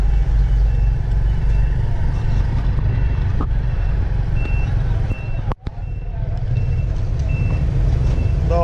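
A truck on a rough village road rumbles steadily up close, with a loud low engine drone, a high reversing-style beep and a brief sharp knock in the middle.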